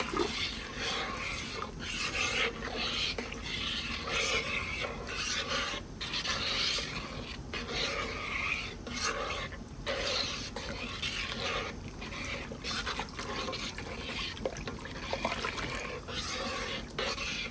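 Roasted garlic being stirred into French onion soup in a pot makes a continuous close scraping and rubbing sound with a faint liquid slosh underneath.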